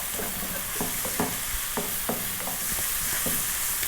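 Egg fried rice seasoned with salt and pepper fries in a pan on high heat, giving a steady loud sizzle with scattered stirring scrapes and clacks, close and without talk.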